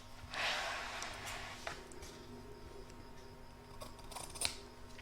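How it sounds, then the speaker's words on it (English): Scissors trimming excess fabric from an in-the-hoop lined crazy patch bag, giving faint, close snips with a soft rustle of cloth and a few clicks of the blades. "I'm now going to trim up some of the excess fabric around here."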